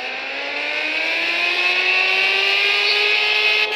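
Car engine revving in Car Parking Multiplayer, a Honda Civic accelerating with its pitch climbing steadily as the revs build, loud and close with no talking.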